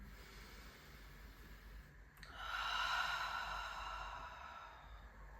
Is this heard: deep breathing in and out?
yes